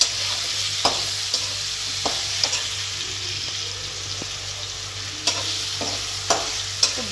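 Onion and garlic fry in a wok with a steady, close sizzle, broken now and then by sharp scraping clicks of stirring. No one speaks.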